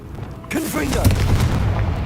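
A Confringo blasting spell in Hogwarts Legacy detonates with a sudden booming blast, followed by a rumbling, crackling explosion that lingers under faint voice-like sounds.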